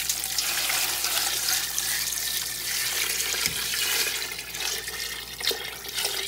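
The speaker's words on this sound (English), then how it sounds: "we're going to top this with cold water." Cold water pours steadily and heavily into a large stock pot of chicken stock ingredients, a constant rushing splash that holds at the same level throughout, close by.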